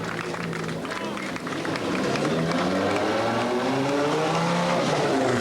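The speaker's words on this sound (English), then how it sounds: "Stig Blomqvist leads crews away from the start below the Great Acropolis Rock" Rally cars leaving the start of the 1985 Acropolis Rally below the Great Acropolis Rock, engines revving and rising in pitch as they pull away, steady and loud under a commentator's voice.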